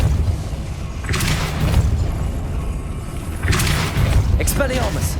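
Depulso spell from Hogwarts Legacy fires in two loud whooshing blasts with booming low rumble, the second followed by crackling sparkle, over constant game ambience.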